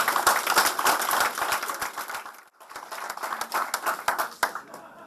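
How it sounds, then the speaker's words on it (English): Applause from an audience gathered to hear Health Secretary Jeremy Hunt speak to the British Chinese community: dense, steady clapping from many hands, fading briefly midway, then picking up again before easing off. "give a round of applause as our appreciation"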